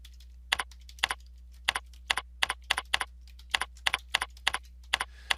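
A computer keyboard is typed on in quick paired clacks, about a dozen crisp keystrokes at close range in a quiet room with a faint steady hum.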